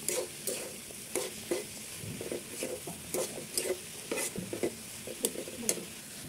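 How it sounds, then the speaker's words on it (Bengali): Vegetables frying in a pan with bay leaf are stirred with a utensil, giving irregular scraping strokes and clicks over a steady close sizzle, with no voices. "তেজপাতা দেওয়ার পর আমি একটু নেড়ে চেড়ে দিব"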